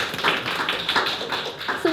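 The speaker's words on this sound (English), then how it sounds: "Round of applause." A small audience at a business talk gives a round of applause for volunteers coming up on stage, a brief burst of scattered claps with a few voices mixed in.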